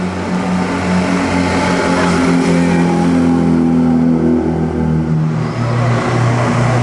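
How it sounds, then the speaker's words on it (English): An Alfa Romeo Disco Volante at the 2008 Mille Miglia rolls past at very low speed, its engine a loud, steady low drone that holds close before easing slightly toward the end. "here's the Disco Volante from the Alfa Romeo Museum. Very, very slow though."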